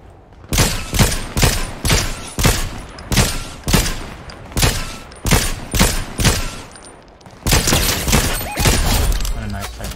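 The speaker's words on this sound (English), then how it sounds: "What a nice type of shooting." Rapid bursts of gunfire in the Fortnite video game, Zero Build mode, a string of loud sharp shots in quick clusters followed by a denser volley near the end.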